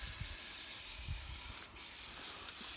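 An aerosol can of foaming oven cleaner hisses steadily onto a Pajero manifold, one long close spray with a brief pause near the end before it resumes.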